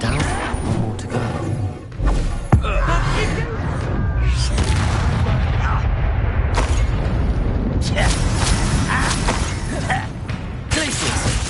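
Spell blasts and booming explosions from Hogwarts Legacy roll through a dense, continuous clamor of combat noise, with several sharp impacts rising above the din and game voices talking over it.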